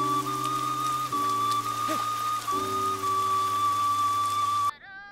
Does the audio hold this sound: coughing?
no